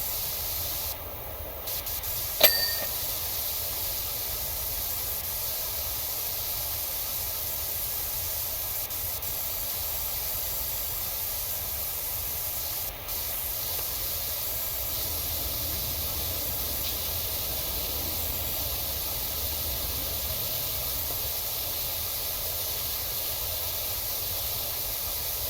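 Pressure washer spraying in the PowerWash Simulator 2 video game: a steady, even hiss of water that runs without a break, fairly quiet, with no talking.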